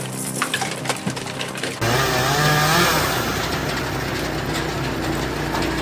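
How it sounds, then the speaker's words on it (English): A homemade firewood processor cutting wood, its engine running loudly and steadily after a quieter opening, with the sustained rasp of a saw bar biting through logs nearby. "It feeds, cuts, and sends wood down the line like it's nothing."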